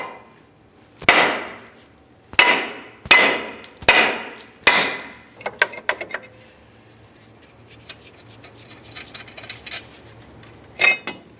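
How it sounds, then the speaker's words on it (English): Five sharp metallic hammer blows on a lug nut against a brake rotor of a 2006-10 Ford Explorer ring out in a steady series, each decaying quickly, followed by a couple of lighter clinks after a pause. "Now let's use our hammer, give this a bonk to break it free."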